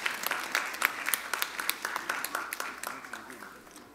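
Applause from a church congregation at a high school Sunday-school graduation ceremony: a steady round of clapping with distinct sharp claps, fairly close, slowly tapering off toward the end.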